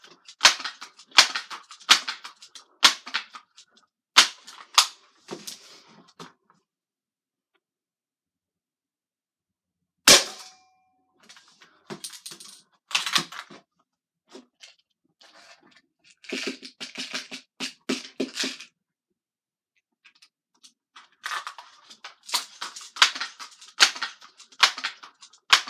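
Umarex NXG APX pump air rifle fired at close range: sharp, snappy shots and mechanical clicks come in separate bursts with brief quiet gaps, fairly close and clear, with no talking.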